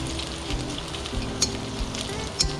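Food sautéing in oil in a pan until golden brown, a steady low sizzle and crackle with a couple of sharp pops, close and alone.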